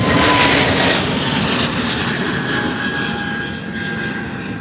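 A fixed-wing airliner takes off at Faro Airport in the early morning, its jet engines a broad, loud roar that holds steady with only slight fading, and no voices over it.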